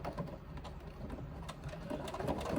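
A sewing machine runs continuously while stitching an overlapping seam on a crossbody bag, giving a quiet, steady mechanical whir close by.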